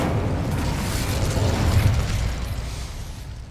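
Incendio fire spell cast in Hogwarts Legacy: a loud, sustained whooshing roar of flame with a deep rumbling burst at its peak, then thinning out and fading toward the end, with no voices.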